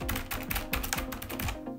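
Someone types on an Azio Retro Classic backlit mechanical keyboard with typewriter-style keys, producing a close, rapid run of sharp clacking keystrokes in an uneven rhythm.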